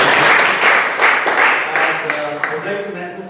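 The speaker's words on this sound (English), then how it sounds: "he definitely needs another round of applause" Audience at a Toastmasters meeting applauding, a steady wash of many hands clapping that fades slightly toward the end.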